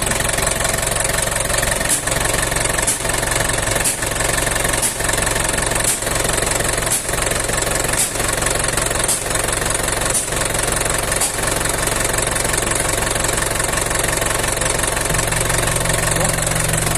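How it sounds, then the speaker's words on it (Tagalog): An Isuzu 4BC2 diesel engine idles steadily up close, with a regular knocking pulse about every second and a constant low rumble throughout. "Ganda ng makina. 4BC2."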